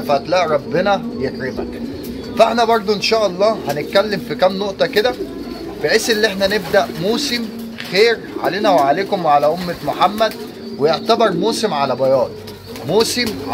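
Pigeons coo continuously inside a pigeon loft, with many overlapping throaty calls close by, while someone talks over them the whole time.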